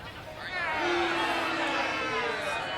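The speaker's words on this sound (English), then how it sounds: "I guess the crowd thinks it was bad" Crowd reaction from the Sherlock Holmes: The Devil's Daughter video game, a steady murmuring babble of many voices with a low sustained tone, fairly loud and continuous throughout.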